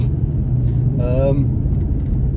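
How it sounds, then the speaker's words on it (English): A Jeep WJ Grand Cherokee's radiator cooling fan runs while parked with a constant low whooshing rumble, close by; a voice briefly sounds over it. "the fan's running, you can actually hear it"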